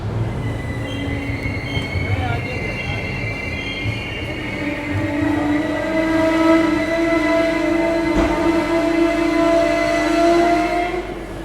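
Yesvantpur-Gorakhpur Express passenger train pulling out of Kurnool City station in the morning, wheels squealing loudly and steadily on the rails with rolling rumble and a brief horn-like tone, heard close from aboard.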